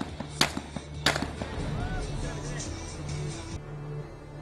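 Two sharp rifle gunshots ring out close together near the start during an international army shooting and combat skills competition, followed by a long decaying echo and low background rumble, with faint voices underneath.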